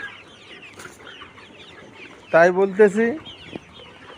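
Layer pullet chickens, 67 days old, on a farm: a brief run of loud clucks rises out of a quiet barn hum, while someone talks briefly nearby.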